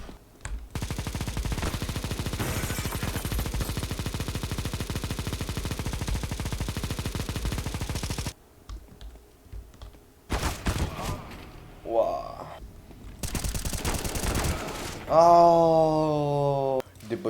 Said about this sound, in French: Je vais prendre la mitrailleuse de Rambo.